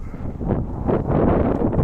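Gusty southwesterly wind ahead of an approaching weather front buffets the microphone in low, rumbling surges, swelling and easing over a couple of seconds.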